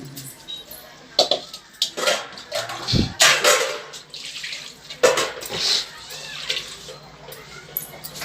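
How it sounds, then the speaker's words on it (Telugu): Water from boiled mutton being poured into a village-style mutton curry in a pot, splashing in a few bursts with short pauses between them, close by, under a busy room-noise background. "మనము చికెన్ అదే మటన్ ఉడకబెట్టుకున్నాం కదా, ఆ నీళ్ళు ఇట్లా పోసేసుకుంటున్నాను"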